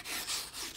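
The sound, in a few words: wire brush scrubbing a garden pot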